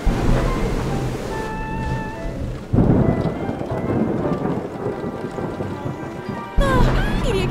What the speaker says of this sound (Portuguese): Ah, queria que a tempestade passasse!